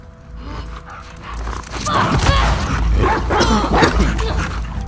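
Dog barking in the video game The Last of Us Part 2, loud and fairly close, layered over game ambience with a voice talking at points.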